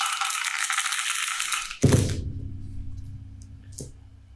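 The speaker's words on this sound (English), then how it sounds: "let's roll the dice and decide who will go first" Dice rolled for a card game match, a sharp rattle of shaking followed by a clatter as they land and tumble to a stop, with one more small knock near the end.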